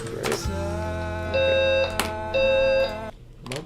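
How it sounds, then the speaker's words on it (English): Steady electronic alarm tone under a low hum indoors, rising in two louder bursts of a sustained beep, consistent with a fire alarm going off nearby. "Is that a fucking fire alarm?"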